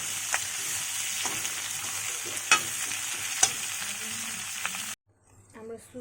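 Chicken noodles frying and being stirred in a pan, a steady sizzle with scraping utensil knocks, then a sudden cut to quieter clattering at the end.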